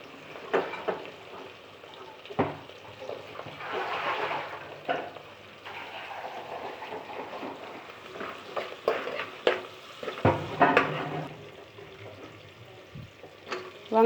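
Vegetables fry in a pan for a vegetable egg biryani, with a steady sizzle broken by stirring scrapes and clatter across the whole stretch, close and fairly loud, no one talking.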